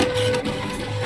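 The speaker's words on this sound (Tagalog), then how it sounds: "Tapos, click nyo ulit na mag-print siya." A home printer feeds and prints a pocket calendar page with a steady whirring mechanical hum and faint rattling, loud and close, with no talk.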